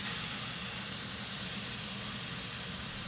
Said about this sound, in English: I'll turn up the heat to high so we can sear properly at the other sides.